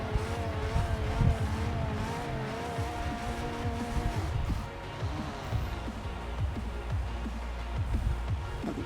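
Race car engine revving hard toward its redline in Forza Horizon 4, a loud, continuous high-revving whine with rising and falling pitch sweeps and occasional gear-change dips, close and steady throughout.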